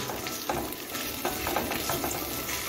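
Ginger and chopped green chilies frying in a pan give a dense, steady sizzle close by, with a few soft stirring scrapes and no talking.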